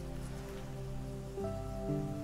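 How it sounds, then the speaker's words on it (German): Rain patters steadily in the video game Deiland, a soft continuous hiss of falling drops heard close and even, with sustained musical tones running underneath and no talking. "Regen, super."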